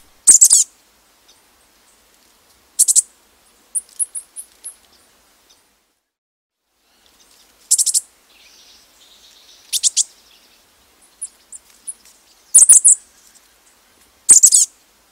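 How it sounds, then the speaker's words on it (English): High, thin calls of a chestnut-backed chickadee come in short separate bursts every few seconds, some as quick chirpy notes, with near silence between. "We hear a chestnut-backed chickadee, which is another small bird"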